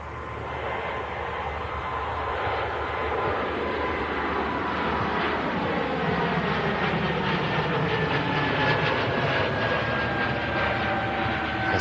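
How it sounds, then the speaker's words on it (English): A Swiss Airbus A220 airliner taxis out for a flight to Zurich, its engines giving a steady, loud whine and rumble throughout, with a faint rising tone partway through. "Swiss A220 heading out to Zurich"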